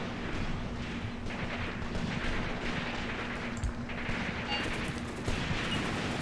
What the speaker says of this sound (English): Our machine guns are finally firing. It's exactly what we need, guys. And the mortars are firing too.